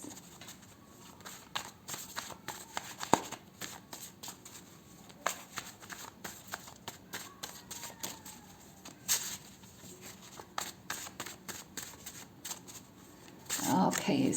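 Health and lifestyle tarot-style cards are shuffled for a reading, giving soft repeated flicks and riffles over a steady quiet hiss, with a louder rustle near the end.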